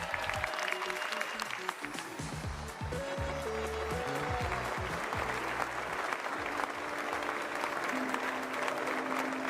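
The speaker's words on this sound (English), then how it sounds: "He really clapped after every sentence." An audience at a livestream games showcase claps, a sustained burst of applause heard faintly behind a speaking voice and other background sound.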